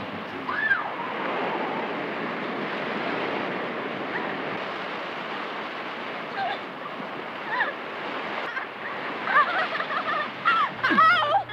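Ocean waves wash onto a beach as a steady, broad rush of surf with a windy edge, heard from nearby with a few faint voices or cries near the end.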